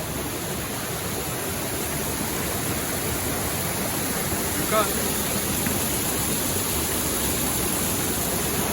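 A river rushes strongly in a steady, loud broadband roar, with a voice speaking briefly over the flowing water.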